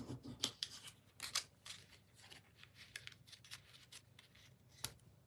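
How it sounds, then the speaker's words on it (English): Scissors trim away unwanted bits of material, a quick series of close, crisp snips and rustles that come in bursts, then a few sparser cuts, with no talking. "So you can trim off the bits that you don't want."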